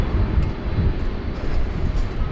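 A Cathay Pacific Airbus A350-1000 taxiing close by at Sydney Airport: a continuous low engine rumble and rush with a steady, even level throughout, no voices.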